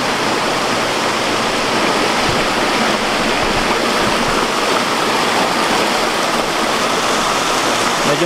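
A waterfall near a hot spring at Lake Tufob in Barlig, Mountain Province, pouring in a constant, dense, loud roar with no voices.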